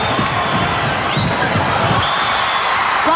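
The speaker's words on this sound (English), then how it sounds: "Sloppy pass gives it back to the Hilltoppers, and the crowd loves it" A loud arena crowd at a 1986 NCAA women's basketball national semifinal between Western Kentucky and Texas cheers and roars steadily, with a few sharp shouts rising out of the din.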